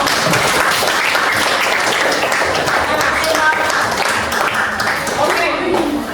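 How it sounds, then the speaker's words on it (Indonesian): A class of students in a school coding and computational-thinking lesson claps together, a dense, steady wash of applause that fills the room for several seconds, with voices mixed in. "Tepuk tangan untuk kita semua."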